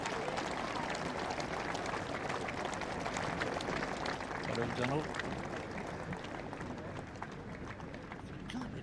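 A golf gallery at the 2007 Barclays Scottish Open applauds Luke Donald with steady, dense clapping that holds throughout, while a commentator speaks over it.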